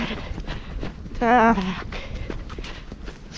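A horse's hooves clip-clop on a countryside trail during a bareback ride, a close, irregular run of dull thuds, while a person speaks briefly and a horse gives a short whinny midway.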